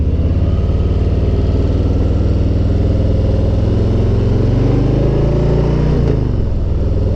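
A Harley-Davidson M8 Street Bob motorcycle engine idles with a steady, loud, close low rumble, its pitch wavering slightly and dipping briefly near the end.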